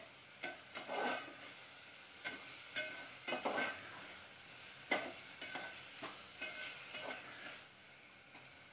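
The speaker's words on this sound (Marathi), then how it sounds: "वाटाणा आणि बटाटा घालून घेते आणि छान स्लो गॅसवरती परतून घ्यायचं" Peas and potato sautéing with moong on a low gas flame, a soft, quiet sizzle punctuated by a rhythmic series of spoon scrapes and stirring taps.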